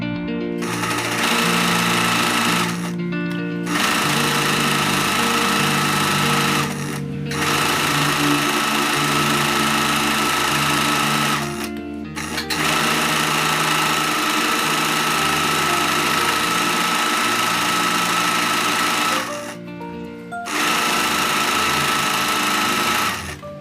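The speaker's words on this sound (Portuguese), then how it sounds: "Então, eu sinceramente preferi sim fazer o acabamento com a minha zigue-zague," A zigzag sewing machine stitching the lining of a tailored circular skirt, running in long loud mechanical buzzing stretches, with brief pauses between runs.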